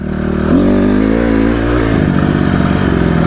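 A motorcycle engine revs up on the throttle, pitch climbing and holding, with a rattly mechanical edge, close and loud throughout.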